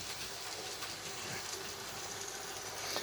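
A model train runs along its track with a slight crackle, giving a steady rolling clatter and faint hiss throughout, moderately close and unaccompanied by talk.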